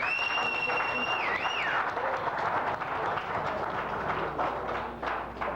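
Sustained applause from a crowd, dense and steady, with a whistle-like tone early on and voices mixed into the clapping.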